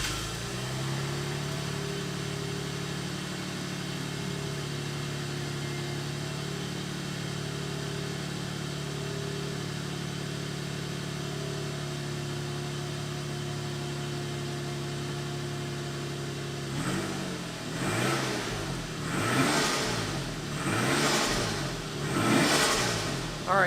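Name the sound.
Toyota Aristo car engine starting and revving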